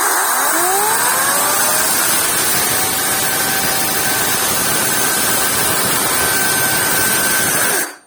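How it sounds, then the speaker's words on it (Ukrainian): A SEQUOIA SBC4014BSO-E2W cordless chainsaw motor at full power whines loudly and continuously at high speed, rising in pitch at the start, then holding a steady buzzing drone before cutting off abruptly. "двигун працює на свою максимальну потужність, яку він може"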